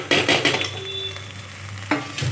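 Onions sautéing in a pan for a tamarind okra curry, a soft steady sizzle with a few brief stirring scrapes and clinks of a spoon against the pan, heard up close.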